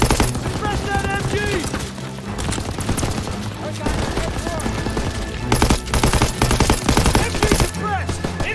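German MG machine gun fire in Call of Duty WWII, sustained loud bursts of rapid gunfire in a chaotic battlefield mix, with voices shouting amid the shooting.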